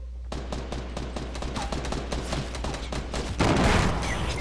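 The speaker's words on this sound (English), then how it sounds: "Oh, I'm being shot" Gunfire in the Fortnite Battle Royale video game: rapid, dense bursts of shots crackle continuously, loud and close, growing heavier toward the end, with no speech over them.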